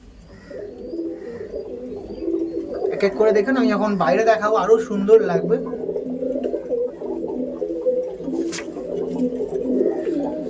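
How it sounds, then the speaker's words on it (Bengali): Pigeons coo in a loft, low throaty rolling calls repeating close by, with someone speaking over them for much of the time. "এখানে সব ম্যাডাস পায়রা আছে"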